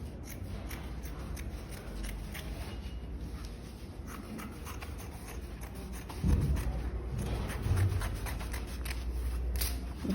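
Scissors cut through fabric for a shift dress at a home sewing table. The snipping is soft and continuous, with rustling and shuffling of the cloth, close and fairly quiet, and no one speaks.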